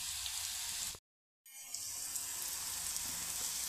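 Grated bitter gourd sautés in a pan with turmeric, a steady close hiss of sizzling that cuts out briefly and then resumes evenly.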